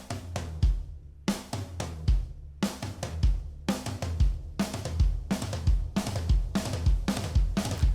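Drum kit plays triplet groupings built on the single-stroke four rudiment, loud and close, with repeated bursts of rapid strokes spread around drums and cymbals in a steady rolling rhythm, no talking.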